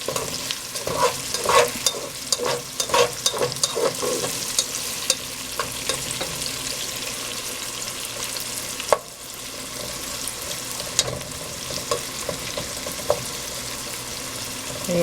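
Onions frying in a pan for a Kenyan coconut curry, with a steady sizzle throughout and a series of scraping, clattering stirs near the start, then quieter frying with occasional utensil knocks.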